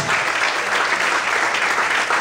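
A church congregation applauds together, dense, loud, steady clapping that fills the room for a couple of seconds with no break.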